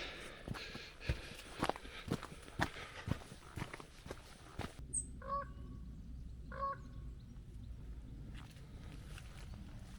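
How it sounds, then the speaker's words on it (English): A raven perched in a tree gives two short, unusual calls, somewhat like a car alarm, in autumn countryside near Tansley, Derbyshire. Footsteps on a walking track come first, then the calls ring out clearly over quiet. "That crow in the tree there. Is it a raven? Yeah, I think it's a raven."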